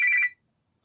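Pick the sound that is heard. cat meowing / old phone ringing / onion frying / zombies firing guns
old phone ringing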